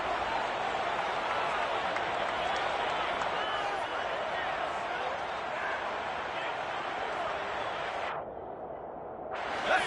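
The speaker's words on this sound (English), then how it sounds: "the crowd getting into it as we come up on a big 3rd down" A football stadium crowd roars steadily, a dense wall of cheering that holds loud throughout and dips briefly near the end before swelling back.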